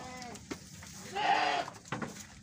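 Jawa Randu and Senduro goats on a breeding farm bleat in short, quavering calls, one longer cry in the middle and another near the end, fairly faint against quiet background noise.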